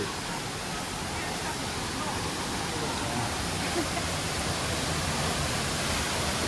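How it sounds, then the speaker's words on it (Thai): Huai Luang waterfall rushes in a steady, even roar of falling water. The broad, unbroken hiss holds constant throughout without pauses. "มาถึงตัวนี้ก็ได้ยินเสียงน้ำตกครับ"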